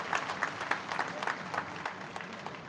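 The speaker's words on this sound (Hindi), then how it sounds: "तो आज क्योंकि उन्होंने हेल्प किया, तो आप थोड़ा उनके लिए भी ताली दे दीजिए" Audience clapping at a hospital inauguration ceremony, a light, fairly distant patter of hands that holds steady for a few seconds without any talking over it.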